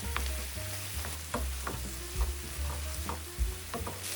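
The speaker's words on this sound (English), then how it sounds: "Keep stir frying until the moisture is mostly gone." Rice with kimchi and gochugaru stir fried in a pan, a steady close sizzle with repeated scraping and stirring knocks of the spatula against the pan, no talking.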